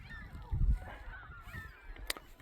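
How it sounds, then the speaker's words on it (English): Geese honk repeatedly out on a lake during a kayak outing, several overlapping calls at middle distance over a breezy outdoor background with occasional thumps nearby. "When I get home, I'll Google it, see what kind of birds those are."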